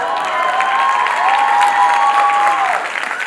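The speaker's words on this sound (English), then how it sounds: "Now you clap now." Audience applause at a political campaign event, a dense burst of clapping from a crowd, loud and steady, with a faint tone running underneath before it tapers off.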